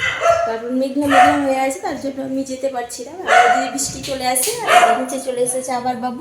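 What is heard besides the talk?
dog barking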